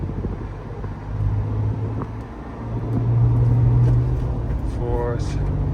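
The engine of a 2014 Toyota FJ Cruiser with a TRD short-throw shifter rumbles from inside the cabin as it is shifted up to third, its tone dipping then rising as revs build, with someone speaking over it.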